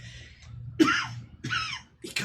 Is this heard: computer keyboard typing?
no